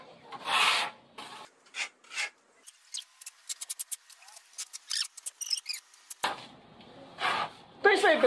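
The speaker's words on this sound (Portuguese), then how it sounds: "Deixa a espátula mais deitada assim na parede." A trowel spreads AC-2 mortar across a wall, giving repeated rough scraping and rasping strokes, close and irregular, broken by short pauses and followed by people talking.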